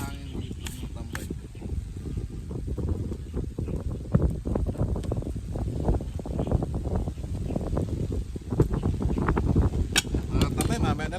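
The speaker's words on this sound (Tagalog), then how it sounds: "Napakalakas ng hangin dito" Strong wind buffets an outdoor spot, roaring and rumbling against the microphone in uneven gusts throughout, close and fairly loud, as a person speaks over it.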